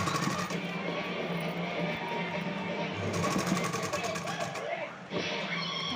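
A sewing machine stitches along a garment neckline, joining lining and main fabric on a boat neck front, a steady close mechanical whir that briefly dips before resuming, with no talking over it.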